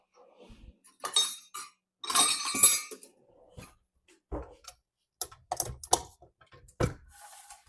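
Dry ingredients stirred together in a mixing bowl while baking with buttermilk and egg to follow, heard as irregular clinks and scrapes of a utensil against the bowl in short bursts with quiet gaps.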